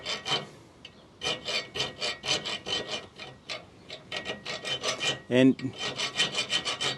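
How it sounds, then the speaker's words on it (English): A thread file rasped back and forth across a bolt's threads, a rapid rhythmic series of gritty strokes close up, one brief louder knock partway through, with a single spoken word. "So once you've got your size, you'll just run it across your threads."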